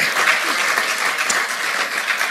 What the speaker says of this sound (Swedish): Vi kör en applåd tycker jag för de här fina presentationerna.